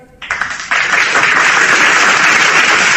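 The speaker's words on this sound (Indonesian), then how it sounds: "Maka yang tepuk tangan siapa?" Audience applause in a religious debate gathering starts with a few claps and swells within a second into dense, loud, sustained clapping that fills the rest of the moment.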